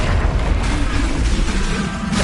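The Incendio fire spell from Hogwarts Legacy erupts as a continuous roaring, booming burst of flame, loud and rumbling for a couple of seconds with no talk over it.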